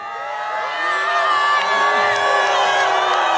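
A large festival crowd gathered from around Toulouse at an evening opening event shouts and cheers together, a loud sustained roar of many voices with whoops rising through it.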